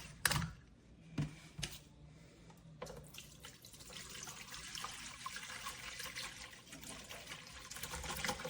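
Distilled water from a one-gallon jug pours into the tank of a Dreo 4L top-fill humidifier, starting after a few knocks and clicks and then running as a steady trickle that builds slightly.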